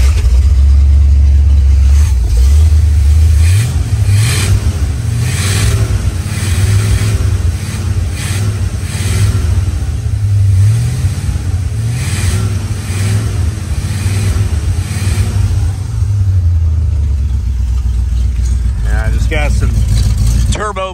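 A 1966 Oldsmobile Toronado engine cranks, catches and settles into a loud, steady idle with its mufflers underneath, a throbbing low rumble that rises briefly in pitch as it revs, while someone talks over it.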